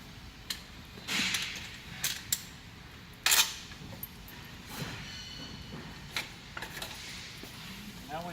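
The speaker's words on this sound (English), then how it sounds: "Pull these bolts out here." Bolts pulled from a motorized Gemini unit during harness replacement: a few scattered metallic clinks and scrapes, close and moderately faint, with quiet handling noise between.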